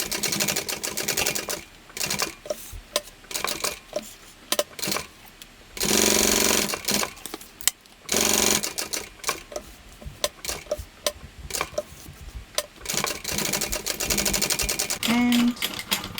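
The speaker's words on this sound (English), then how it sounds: "we're going to top stitch the side along the bottom and back up this side" A sewing machine top stitches the side and bottom of a small Pomme Mini Tote bag, running in rapid stitching bursts that stop and restart, with a brief louder stretch midway.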